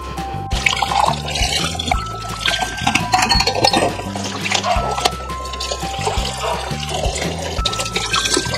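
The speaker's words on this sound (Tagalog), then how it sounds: "Ay, maghugas na lang din muna ako." Running water flows and splashes continuously while dishes are washed up, close and fairly loud, with music playing in the background throughout.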